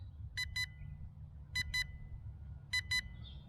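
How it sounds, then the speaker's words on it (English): An SMRC CAT 1 Pro GPS drone controller sounds a low-battery warning: three evenly spaced pairs of sharp, high electronic beeps over faint background hiss. "Sorry about the beeping, guys."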